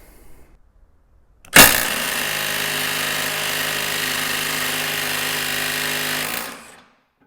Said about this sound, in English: let's have a look and see if we can undo this nut with the DeWalt